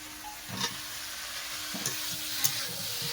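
Fried potatoes are stirred into a pan of spices and tomato, a quiet steady sizzle with occasional scraping stirs and light clicks of a spoon against the pan, close and without voices.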